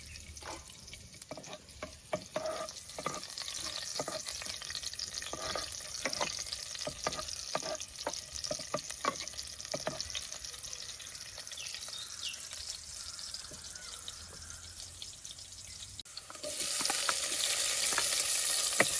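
Onion fries in hot oil in a pan for a Konkani prawn curry, with a steady close sizzle and crackle that intermittent stirring clatters break up, and the sizzle grows louder toward the end.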